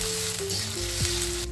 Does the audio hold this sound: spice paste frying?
yes